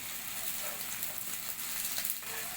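Fox nut (makhana) patties frying in a pan after being flipped, a soft, even hiss of oil with faint crackles, close and quiet, no talking.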